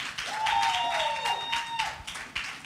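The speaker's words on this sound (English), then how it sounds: "please a round of applause for our amazing" Audience applause at a business and career expo, a broad wash of clapping lasting the whole stretch, with a faint tonal whistle gliding through the middle.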